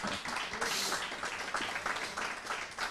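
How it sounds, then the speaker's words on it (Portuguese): A studio audience on an entrepreneurship interview program gives a round of applause, a soft, fairly faint wash of overlapping claps that continues without a break. "Salva de palmas aí."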